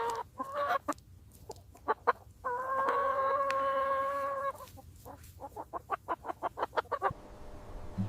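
Hens in a chicken barn cluck and cackle, with drawn-out calls and a rapid run of clucks building toward the end, close and clear with no talking.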